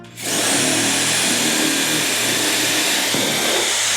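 Power drill with a masonry bit boring through a tile floor in a château tower renovation, a loud, continuous grinding whine that starts abruptly and holds steady without a break.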